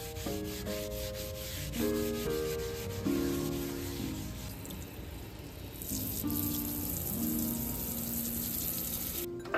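Bar Keepers Friend cleanser being scrubbed around a sink, a steady close rubbing and sanding texture that persists throughout with faint watery sounds mixed in.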